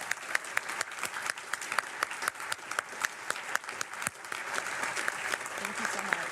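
Steady applause from an audience, many hands clapping together with a few sharper claps standing out, sustained throughout at moderate loudness.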